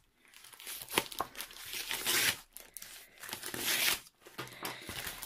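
Scissors cut open parcel packaging holding a diamond painting canvas kit, with close, crinkly plastic and paper rustling and several louder tearing bursts.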